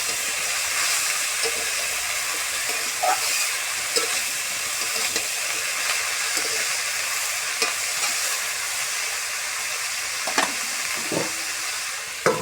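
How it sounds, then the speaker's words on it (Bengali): Food stirred in a cooking pot with its lid lifted gives a steady sizzling hiss, broken by scattered scraping and clinking strokes of the utensil, close and continuous, with no one talking. "ঢাকনাটাকে খুলে নিয়ে আর সেগুলোকে আরোভাবে ভালোভাবে নেড়ে চেড়ে নেওয়া হচ্ছে"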